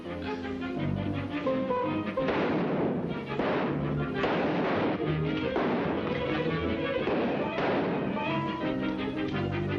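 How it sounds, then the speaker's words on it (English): Rapid gunshots fired at a lock in an old black-and-white horror comedy, a dense run of sharp booming reports in bursts, loud and close, with voices mixed in. "Everybody's just shooting at the lock."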